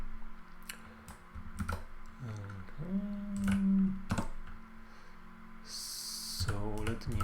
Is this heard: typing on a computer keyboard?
yes